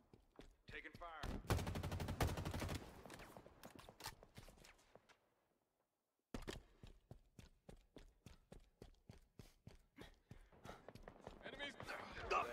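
Gunfire from the Halo Infinite multiplayer video game, rapid bursts of automatic shots that fade out, a brief silence, then a long, steady string of evenly spaced single shots. Game voice lines play now and then.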